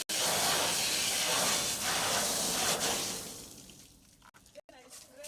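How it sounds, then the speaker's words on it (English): A strong, steady water jet sprays with a loud hiss for a few seconds, then fades and cuts off abruptly, used for cooling during marine firefighting training. "So I'm going to start by jetting. This jet is for cooling."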